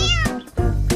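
A domestic cat meows twice in close succession, each call loud and near with a rising-then-falling tone, with no other sound around it.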